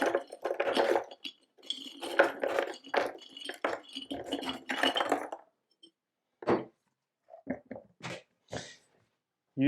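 Bones are loaded by hand into a Vitamix blender jar, with a run of dense clattering knocks against the container followed by a few sparse sharp clinks and taps after a pause, close by.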